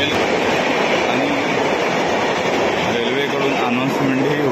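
A fast mail train passes a Mumbai suburban platform, giving a loud continuous rolling roar with rhythmic wheel clatter and a few wavering tonal squeals from the wheels.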